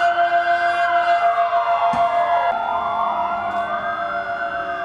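A siren wails steadily through a two-minute silence at a wreath-laying ceremony at an Atatürk monument, its pitch rising and falling in long sweeps, loud and unbroken with no voices over it.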